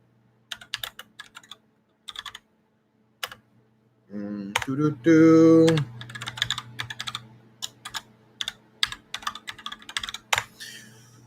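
Bursts of close computer keyboard typing, with scattered key clicks broken by pauses and a brief spoken phrase in the middle.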